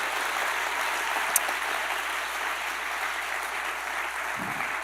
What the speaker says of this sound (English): do give a round of applause to both our contributors